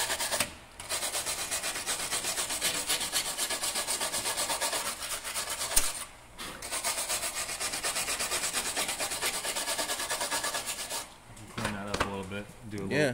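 A repair on a part of a 1999 Mitsubishi Eclipse GSX is sanded smooth, loud close abrasive rubbing in long continuous runs broken by two short pauses.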